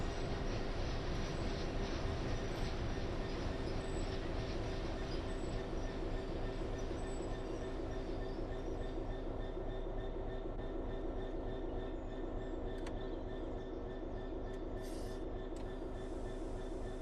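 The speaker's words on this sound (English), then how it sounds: "A Azuma train did come speeding past" An Azuma passenger train speeds past on the East Coast Main Line in Train Sim World 4, a loud, steady rail roar with wheel noise and squeal running throughout, close by, with no voices.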